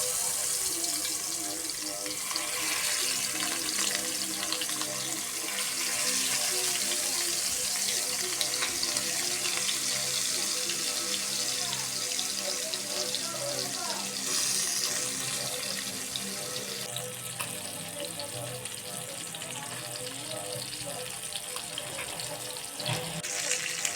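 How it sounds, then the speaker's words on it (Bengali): Bata fish frying in hot oil on a stove, giving a steady, loud, broad sizzling hiss that carries on throughout. "এখন ফ্রাই করার জন্য আমার চুলার তেল গরম হয়ে গেছে। এখন মাছ দিয়ে দিব।"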